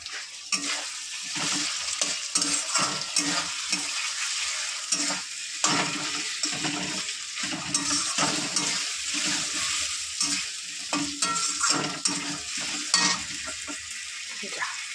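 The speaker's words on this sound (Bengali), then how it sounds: "এবার এই মাছ ভাজা তেলটা দিয়ে দিলাম।" Oil left from frying fish poured into a sizzling fish curry, loud close frying and bubbling with repeated stirring and scraping against the pot throughout.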